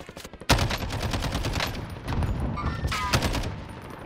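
Gunfire in a Call of Duty Warzone firefight, loud bursts of rapid shots starting abruptly and continuing in dense volleys, with brief voices mixed in.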